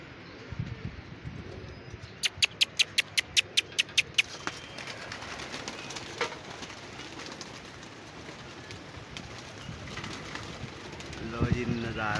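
Pigeons in a rooftop coop give soft, low cooing under a steady background hum, with a quick run of sharp clicks early on and someone talking intermittently nearby.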